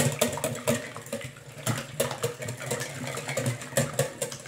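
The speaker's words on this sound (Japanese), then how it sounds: "これを泡立て器でよく混ぜてください" A whisk beats a savory pound-cake batter with salt and pepper in a bowl, giving rapid rhythmic scraping and tapping strokes at close range with no talk.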